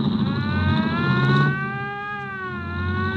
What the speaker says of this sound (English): Turn off that siren, huh?